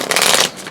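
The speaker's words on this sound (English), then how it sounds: "Now I'm like shuffling face up." A deck of tarot cards is shuffled by hand, giving a brisk papery riffle and flutter close by that eases off near the end, with no talking.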